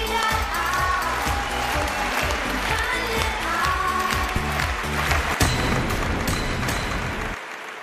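Studio audience applauds on a Chinese television dating show as two women contestants are welcomed back to the stage, a loud, steady burst of clapping layered over a pulsing music bed that cuts off near the end.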